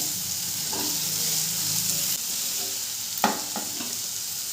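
Chopped onion fries in a pan for semolina upma, giving a continuous close hiss and sizzle, with a sharp utensil knock and a few lighter stirring taps partway through.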